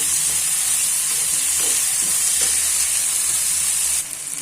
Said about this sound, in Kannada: 1-2 ಮೀಡಿಯಮ್ ಸೈಜ್ ಟೊಮೊಟೊ ಹಾಕ್ಕೊಳ್ಳಿ. ಚೆನ್ನಾಗಿ ಹುರ್ಕೋಬೇಕು.